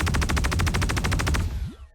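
Anvil Valkyrie ship weapon in the Star Citizen video game, firing a rapid burst of about fourteen loud evenly spaced shots, then cutting off into a brief fading whine.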